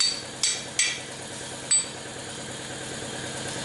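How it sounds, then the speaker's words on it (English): A tailhousing bushing for a 4R70W-type transmission is struck sideways with a hammer to widen it, giving three sharp metallic hits, two close together and one later, over a low steady background hum. "When I'm hitting it to the side, I'm trying to widen the bushing a bit."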